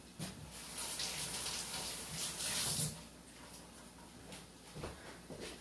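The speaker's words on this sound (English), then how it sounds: "Let me rinse these off." Tap water runs steadily over broccoli being rinsed in a kitchen sink, a close, continuous wash with brief splashy surges and no talking.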